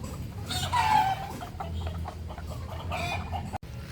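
Chickens clucking nearby, a few short bursts of clucks and soft squawks over faint outdoor ambience, with a brief thump near the end.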